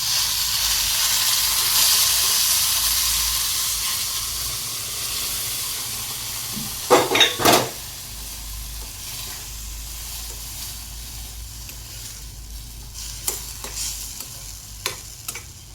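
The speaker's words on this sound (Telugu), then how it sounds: "ఇప్పుడు మనం ఇందులో కాచిన పాలు పోసుకోవాలి." Boiled milk poured over dry-roasted semolina in a pan for rava barfi sets off a broad, loud sizzling hiss that slowly fades, with a few sharp clinks of the stirring spoon in the middle and near the end.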